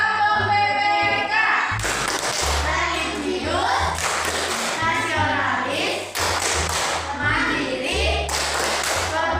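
A school class performs the Tepuk PPK routine, clapping and tapping in quick rhythmic patterns while children chant words in unison between the claps.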